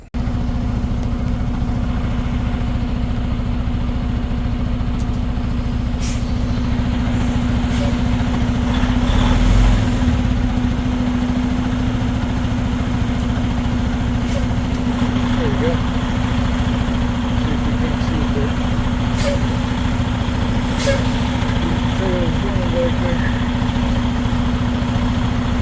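A truck engine idles with a steady low rumble throughout, a constant droning hum with slight variations over about twenty-five seconds.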